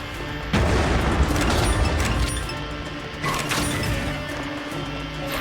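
An enemy abductor blows apart in the video game Freedom Wars: a sudden loud boom is followed by sustained crashing debris and mechanical rumble, and a second burst comes a few seconds later.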